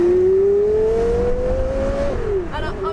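A Porsche Carrera GT engine revs loud and close, its pitch climbing steadily, then dropping quickly as the revs fall away.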